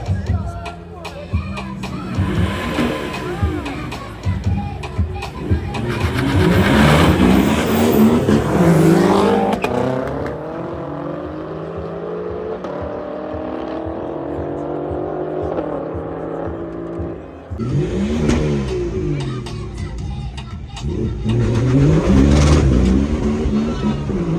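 BMW performance cars such as an M3 E46 and M5 F10 rev hard and accelerate at a drag race, with loud roaring engines, rising and falling pitch as gears change and a car passing, with talk over the noise.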